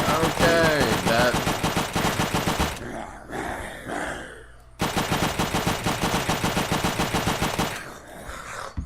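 WW2 machine guns in an Unturned gun mod fire in long, rapid, loud bursts, broken by a short pause with a clatter and a brief voice before the automatic fire resumes.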